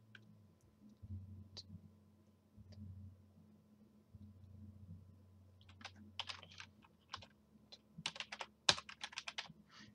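Typing on a computer keyboard while setting up a Kodi build on a Fire Stick: close, quiet clusters of rapid key clicks, sparse at first and then denser bursts in the second half, over low background hum, with no talk.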